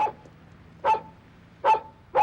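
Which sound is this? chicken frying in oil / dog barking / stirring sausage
dog barking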